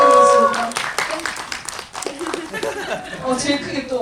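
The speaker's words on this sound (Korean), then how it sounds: "박수 부탁드리겠습니다" Scattered clapping comes from an audience at a film Q&A event, mixed with light laughter and talking voices, and sounds moderately loud throughout.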